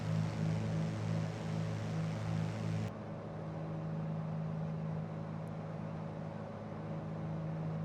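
Simulated Carenado Piper PA28R Arrow III single-engine light aircraft in cruise, a steady humming propeller drone that drops abruptly to a quieter, smoother tone partway through, with no talk.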